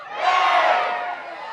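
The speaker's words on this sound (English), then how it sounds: "Fontana reacts to energy, and the crowd has responded." Stadium crowd at a North Carolina vs. Cal women's college soccer match roars and cheers in a sustained, loud swell that builds and slowly eases, with no talk over it.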